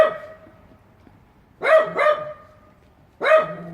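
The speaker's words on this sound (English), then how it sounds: "The neighbors let their dog out, so my dogs have got to say hi to him." Several pet dogs bark at a neighbor's dog from indoors, a short pair of sharp barks followed by a third after a pause, clear and fairly close, with no talk over them.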